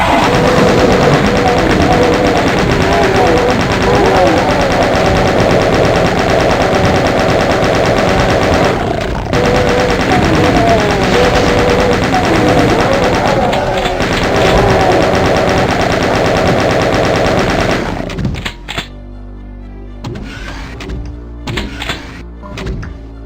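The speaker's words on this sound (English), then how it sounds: "which is why I advise using the chain gun for this" A chain gun fires in the video game Doom with loud, continuous rapid bursts and heavy thuds that run for most of the stretch, then break into scattered shots near the end.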